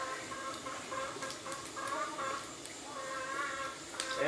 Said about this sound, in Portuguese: É, vai cantando, galinha,